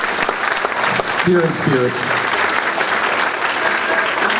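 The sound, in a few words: concert audience applause for a student teacher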